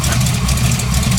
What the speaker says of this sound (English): More belt squeal.